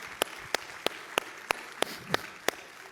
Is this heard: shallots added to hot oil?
no